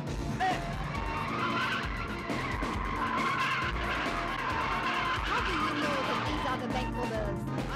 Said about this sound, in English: I'm driving too fast. It's a car chase.